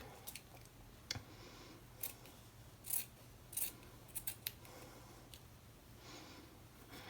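Sharp scissors make a series of quiet, close snips as they cut an old cotton t-shirt into strips of yarn, with short pauses between cuts.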